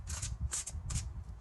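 Oracle cards being shuffled by hand, three soft, quick riffling swishes close up with light rubbing between them and no voices.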